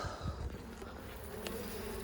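Honey bees hum inside an opened hive during spring inspection, a dense, continuous buzz close up with no voices.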